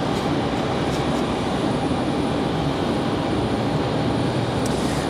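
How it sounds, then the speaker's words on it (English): An American Airlines A319 arriving at Raleigh-Durham from Philadelphia makes a dense, even rumble of engine noise that holds steady and moderately loud throughout, with no pauses. "Got American Airlines 2360 coming in from Philadelphia, an hour and 4 minutes of flight time for an A319"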